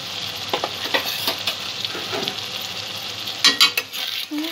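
Cumin powder, chilli powder and salt fry in a pan for chicken ghugni, a constant close sizzle broken by repeated scraping stirs and a couple of louder clattering knocks, no speech.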